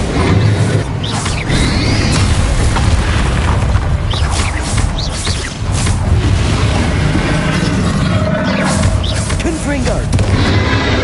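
Explosive Bombarda spell blasts in the Hogwarts Legacy video game, dense booming detonations layered over continuous loud battle noise with overlapping crashes throughout.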